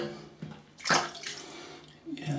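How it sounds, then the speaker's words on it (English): Shaving brush tips dipped briefly into water while lathering a soap for a wet shave, giving a short close splash and swish near the middle, with quieter watery sloshing and faint movement around it. "I'm just dipping the tips of the brush there just to get a little bit more moisture"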